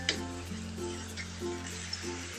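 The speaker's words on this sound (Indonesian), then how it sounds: "Kita aduk supaya bumbunya menyatu dengan ati ampelanya." Chicken liver and gizzard stirred with spice paste in a hot pan, giving a steady low sizzle with a few soft scrapes of the spoon, close up and with no talking.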